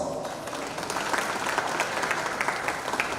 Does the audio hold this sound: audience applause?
yes